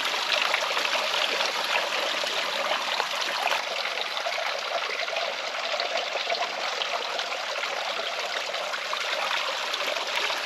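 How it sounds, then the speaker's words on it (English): Spring water trickles steadily into a bag filter on a canyon hike, a close, continuous watery hiss and dribble with no pauses and no voices. "So I'm gonna collect some water."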